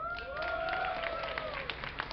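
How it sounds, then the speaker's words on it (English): Crowd at a DreamHack 2010 StarCraft II tournament cheers and applauds for a player, a steady wash of clapping and shouting voices that fills the hall throughout. "give a cheer for Inka."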